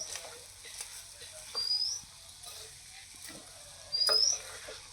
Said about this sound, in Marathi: असा अधूनमधून आपण शिरा हलवून घ्यायचा